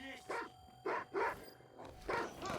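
A dog in the video game Watch Dogs 2 gives several short, separate barks and yips spread across a few seconds, fairly quiet and somewhat distant.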